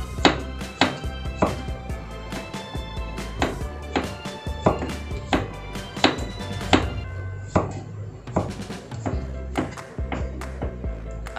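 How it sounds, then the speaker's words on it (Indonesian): Knife slicing a washed onion thinly on a cutting board, a run of sharp, evenly spaced close chops repeating about twice per second, loud and alone. "Ini bawang sudah aku cuci bersih ya guys, kemudian kita potong tipis-tipis"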